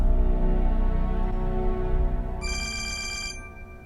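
A telephone bell starts ringing partway through, bright and trilling over a low background hum, then cuts off before the end.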